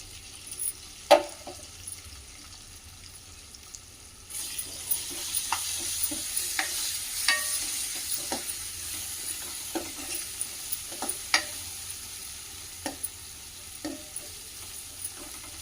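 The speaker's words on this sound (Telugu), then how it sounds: "కొంచెం వేగినాయి ఇప్పుడు ఉల్లిపాయ వేసుకుంటున్నాం" Chopped onion fries in hot oil with turmeric in a pan, a steady close sizzle that rises when the onion goes in, broken by scattered clinks and scrapes of stirring.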